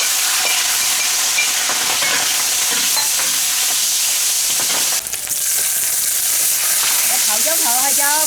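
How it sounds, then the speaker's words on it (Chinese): Leftover meat and celery frying in a hot wok, a loud continuous sizzle with stirring scrapes, and a voice talking briefly near the end. "这剩下的肉呢，再来煎点芹菜"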